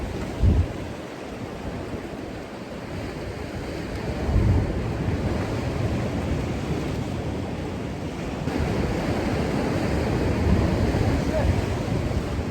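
Ocean waves roll and crash steadily onto a beach in Mexico, a loud continuous surf roar with heavier breaking swells near the start and middle, with wind buffeting the microphone.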